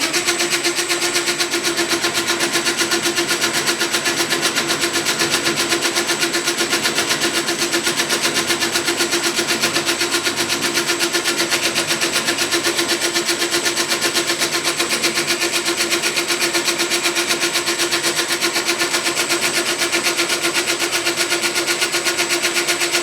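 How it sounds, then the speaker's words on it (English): A metal lathe with century-old spindle bearings runs a facing cut, giving a loud, steady mechanical drone with a constant tonal whine that holds unchanged for the whole stretch. "Try a little bit of a facing cut."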